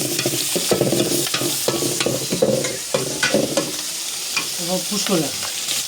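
Turmeric-coated fish frying in hot oil on a clay stove, a loud continuous sizzle with scraping and stirring strokes and some clinks near the end.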